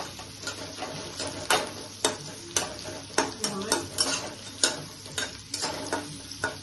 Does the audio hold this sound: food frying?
yes